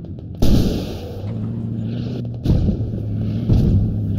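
A tank cannon firing in the military video game Squad: a loud, sudden boom with a rumbling tail, followed by further heavy blasts over a constant engine drone.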